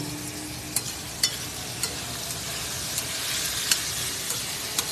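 Bagoong, fermented shrimp paste, sizzles steadily in a hot pan, a close continuous fry with sharp spitting pops and occasional stirring scrapes scattered through, with no voices.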